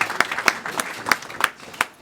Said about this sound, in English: give Old a round of applause.